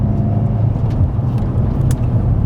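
A 2018 BMW M5 F90 driving on the road: a loud, steady low engine drone with road rumble, heard from close up.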